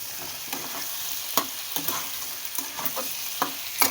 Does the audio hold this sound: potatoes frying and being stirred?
yes